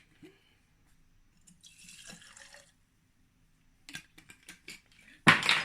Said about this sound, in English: We're going to get our surgical spirits, pour that into the jar